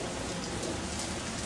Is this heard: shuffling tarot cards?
no